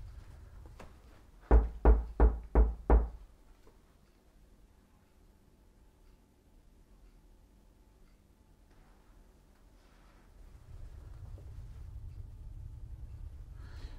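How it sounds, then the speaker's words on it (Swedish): Five sharp, evenly spaced knocks on a wardrobe door, loud and close, followed by a long stretch of quiet room tone with a faint rumble of background noise later. "Jag knackar här igen i garderobsdörren."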